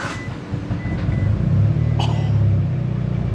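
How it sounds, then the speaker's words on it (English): Starter on a Mitsubishi Evo cranks the engine in a quick, fast-spinning low rumble, close and steady for a few seconds without firing into a clear start. "Listen to how fast this starter cranks though."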